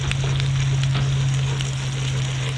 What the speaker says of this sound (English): now that these onions are starting to brown up nicely, I'll go ahead and put a little bit of minced garlic in there